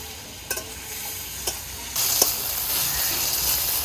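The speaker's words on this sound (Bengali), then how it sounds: "এবারে এর ভিতরে ভিজে রাখা মাছ দিয়ে দিচ্ছি, ট্যাংরা মাছগুলো।" Tangra fish being fried in a cooked spice paste: a low, steady sizzle with a few spoon clicks, then a louder burst of hissing that carries on strongly, close-up and without speech.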